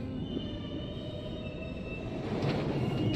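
Steady low rumble of a moving train with a faint high whine, heard inside a carriage in the video game A Memoir Blue, growing slightly louder toward the end.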